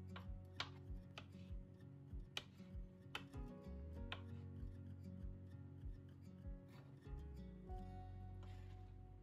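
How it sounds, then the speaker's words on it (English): Knife slicing whole olives on a cutting board in a home kitchen, a string of light, regular taps and clicks at close range, soft and steady. "I'm going to slice up the olives"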